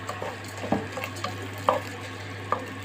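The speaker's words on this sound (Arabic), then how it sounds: "وبقلب بالايد التانية" Egyptian fatta rice cooking in ghee and oil is stirred in a pot, producing soft scraping, a faint sizzle and a few light knocks of the utensil against the pot, quiet and close.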